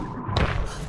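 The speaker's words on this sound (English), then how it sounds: "That's the thunk I heard when I saw the spider run" A sudden cartoon thunk as a spider runs in an underwater adventure cartoon, a single heavy thud around the middle of the short clip, fairly close and fading out quickly, with no talking.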